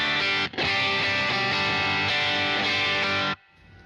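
A loud, heavily overdriven electric guitar chord through a Vox AC30 amp rings out, cuts briefly, then sustains thick and gritty before stopping abruptly into a faint hiss.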